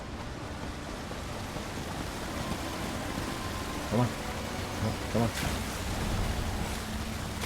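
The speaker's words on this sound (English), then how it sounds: "Oh, I think it's just waterfalls." A waterfall in the video game Elder Scrolls Online, a steady broadband rushing roar underneath, while a player talks over it and a few short tonal game sounds pop up.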